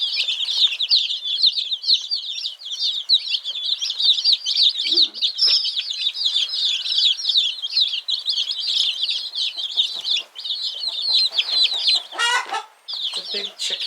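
Dense, continuous high-pitched cheeping from many baby chicks, loud and close, with occasional rustling and a brief flutter near the end.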